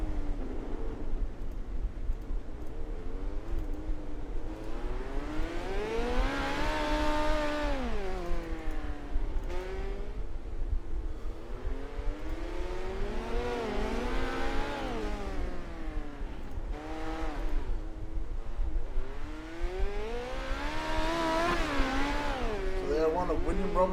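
Midget race cars roar around a dirt oval in New Zealand, engines rising and falling in repeated sweeping passes as the pack laps close by, with a steady roar throughout and commentary running underneath.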